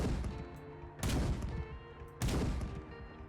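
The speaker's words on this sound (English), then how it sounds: "And then finally, we have our Gauss Sniper." Gauss Sniper rifle from a Fallout 4 weapon mod firing twice, about a second apart: each heavy, sharp blast is followed by a ringing decay over a low mechanical hum.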